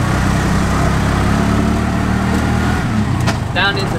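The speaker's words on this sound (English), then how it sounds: "back up into second" A tuk tuk engine in Sri Lanka putters and drones loudly up close as the gears shift, the revs dipping near the end amid road noise and a brief high squeak.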